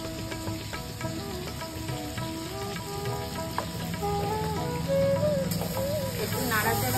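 Tomatoes frying in a pan with a little salt and turmeric for a prawn mustard curry give a continuous close sizzle with occasional stirring scrapes, under steady tonal background sound.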